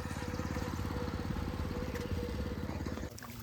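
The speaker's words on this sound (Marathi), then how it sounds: "चला तो ट्रॅक्टर" A farm tractor engine runs steadily close by with a rhythmic low chugging pulse, holding at an even level before dropping slightly near the end.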